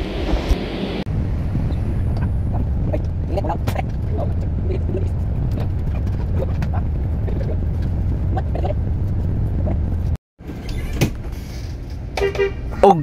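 A steady engine drone and wind rumble fill the interior of bus 4653 at Bislig Terminal. The rumble is continuous and loud, breaks briefly near the end, then returns with rattles, while a voice talks over it.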